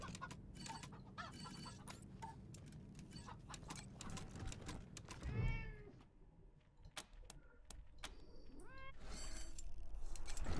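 A cat meows once, clear and close, amid a cluttered mix of clicks and game-like sound effects from the video game Wasteland 3.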